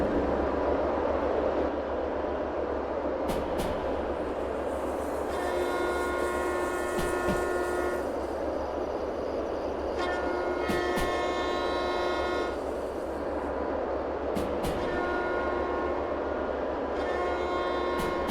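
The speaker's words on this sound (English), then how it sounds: "Oh, you want to hear the train engine sounds?" A DE2 locomotive engine runs steadily in a video game, a continuous low rumble and hum with recurring tonal whines rising and fading over the top, sustained without talk.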